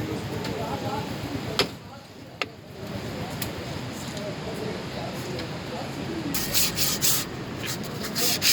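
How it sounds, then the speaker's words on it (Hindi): Sandpaper is rubbed against a car's brake drum in steady scraping strokes, gritty and continuous, with a few sharp taps and a burst of brighter rasping near the end as someone speaks throughout. "लगाते वक्त आप इसमें रेगमाल मारें लाजमी"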